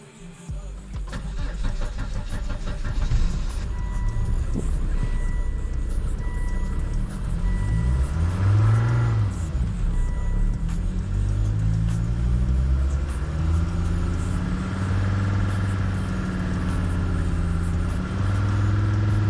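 A car engine cranks, catches and runs, revving with rising and falling throttle bursts, loud and close, alongside a repeating beeping tone.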